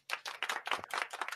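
A small crowd claps briefly, a short burst of scattered, sparse handclaps close by with no voices over them.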